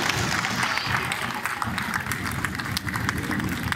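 A crowded hall at the closing ceremony of the 19th International Chess Festival in Saint-Lô, 2017, fills with steady, brisk applause from many hands, continuous and moderately distant throughout.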